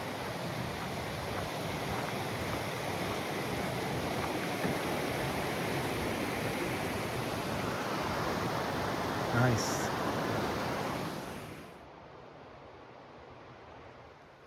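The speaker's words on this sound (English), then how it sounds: "We have made it to Big Sandy River. It's a loud one." Loud, steady roar of the Big Sandy River rushing close by in the Wind River mountains, a dense wash of water noise; a voice speaks briefly before the sound drops away near the end.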